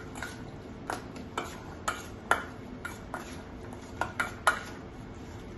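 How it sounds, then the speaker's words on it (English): Salmon tartare being mixed with olive oil and salt in a bowl: a run of light, irregular clinks and taps of a utensil against the dish, fairly close and quiet, with no voices. "So give that a mix."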